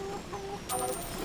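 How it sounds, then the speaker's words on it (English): Short clucks from a chicken in the video game City of Brass, brief and fairly faint against a background of game ambience, with a bright chime-like tone partway through. "I hear a chicken."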